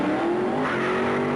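A Plymouth Barracuda and a Mustang, Super Stock cars at the 1969 AHRA Winter Nationals, leave the drag strip starting line with a loud, continuous engine roar whose pitch holds and slowly climbs, with no voices.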